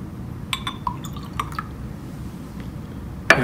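Aqueous lead nitrate and potassium iodide solutions are poured together in glassware, giving a few sharp glassy clinks and drips over a quiet background, ending with a brighter clink.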